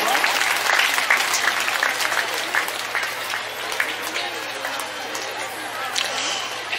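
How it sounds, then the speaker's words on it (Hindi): An audience at a church felicitation in a parish hall gives a sustained burst of clapping, loud and close, with faint murmuring underneath. "ताली बजाओ धन्यवाद"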